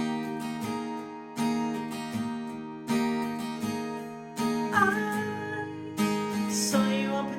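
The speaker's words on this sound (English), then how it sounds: "Okay, so the chorus sounds like this" Acoustic guitar strums the chorus of a song in clear rhythmic chord strokes, about one every one and a half seconds, ringing close and alone with no voice.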